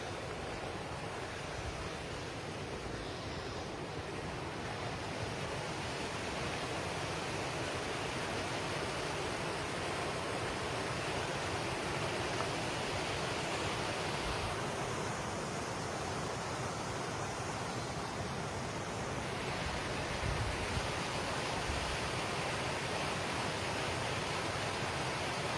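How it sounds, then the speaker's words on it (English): A small waterfall spilling out of a hillside beside a river in old ironworks country, heard as a steady, dense rush of falling water that stays close and constant throughout, with no voices. "a small waterfall coming out of the hillside"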